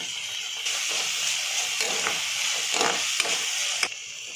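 Green peas with salt and pepper powder stir-fry in a pan with a steady soft sizzle, broken by occasional spoon scrapes and light taps, close by and with no one talking.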